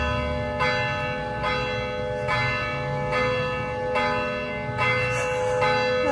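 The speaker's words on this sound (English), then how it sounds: "Hopefully you might enjoy this bit of church bell chiming." Church bells in Colombia chime at six o'clock, heavy ringing strikes repeating at roughly one-to-two-second intervals with long resonant tails, moderately loud and unaccompanied by talk.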